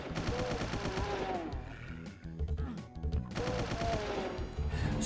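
Rapid bursts of assault rifle fire in a Doom megawad, loud and close, coming in two sustained volleys with a short gap between them and game music playing underneath.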